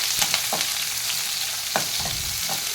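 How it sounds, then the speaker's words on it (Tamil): Onions and curry leaves sautéing in a pan after mustard seeds have popped, giving a steady close sizzle with repeated scraping stirs of a spoon throughout. "வெங்காயம்லாம் நல்லா வதக்கலாம்"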